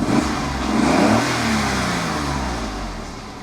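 A Toyota Yaris 1.0 VVT-i engine runs up close after an oil change. A brief rev swells and then eases back to a steady, smooth idle hum.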